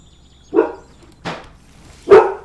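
A pet dog barks three times at close range, spaced unevenly, with the last bark the loudest.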